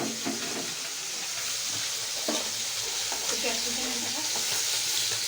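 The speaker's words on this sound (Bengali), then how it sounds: "মাছ ভাজছি, দেখো মাছ" Fish frying in a wok-style kadai, a steady close sizzle with occasional stirring and utensil clatter, no talking over it.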